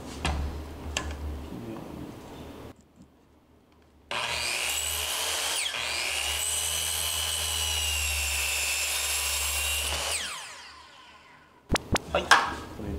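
A circular saw spins up and cuts an angled piece of wood for a hexagon shelf, a loud sustained whine lasting about six seconds before winding down, framed by a few sharp knocks and clatters before and after.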